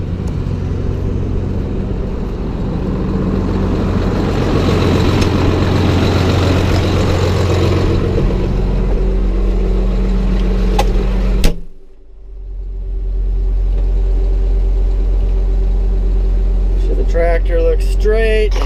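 A heavy tractor engine rumbles steadily at close range, cuts out sharply with a thump, then a low idle hum returns while faint voices appear near the end.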